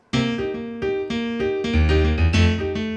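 Solo piano plays a steady, straight-pulsed salsa pattern, with repeated bass notes and syncopated chords moving in an even groove.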